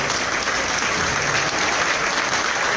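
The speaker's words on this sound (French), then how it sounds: "On l'applaudit très fort." A concert audience at the Cabaret Sauvage in Paris applauds loudly and continuously, a dense, close roar of clapping hands with no voices on top.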